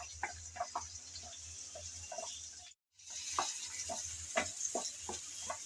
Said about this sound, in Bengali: এখন রসুন আর পেঁয়াজ নেড়ে চেড়ে হালকা করে ভেজে নেব।